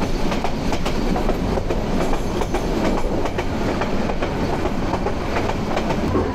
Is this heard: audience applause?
no